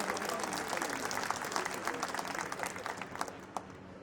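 Audience applause at a court felicitation ceremony, a continuous wash of clapping heard fairly faintly and at some distance, steady for the whole stretch.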